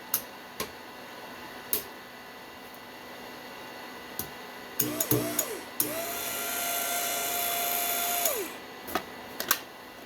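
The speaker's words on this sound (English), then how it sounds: "I can actually control this motor with this MIG gun" Small electric motor switched by a MIG welding gun trigger, spinning up with a rising whine, holding a steady tone for a few seconds, then cutting off, among scattered clicks and taps.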